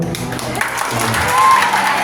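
Church congregation clapping during a midweek worship service, a dense burst of applause that swells and holds steady for about two seconds, with a preacher's voice and some cheering mixed in.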